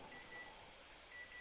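A kitchen timer goes off while oatmeal chocolate chip cookies bake: faint, high electronic beeps come in two short bursts over a quiet room hiss.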